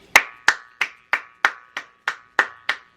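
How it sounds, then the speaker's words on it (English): A single person claps hands in a room where miniatures are being painted, producing nine crisp claps in a steady, evenly spaced rhythm, close and fairly loud, with no voices. "I'm gonna give you a clap"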